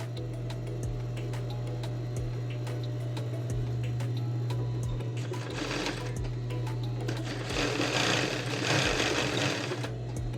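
A sewing machine stitches the facing of a women's blouse, a steady mechanical whir with a rhythmic needle tick that speeds up and grows louder toward the end, running alone without talk.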